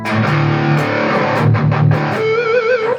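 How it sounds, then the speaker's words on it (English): Electric guitar played through a distortion pedal into a BOSS IR-200 amp simulation, thick sustained distorted chords shifting between voicings, then a single held note ringing out with vibrato, loud and close with no voices. "it sounds amazing or fine with a distortion in front of it"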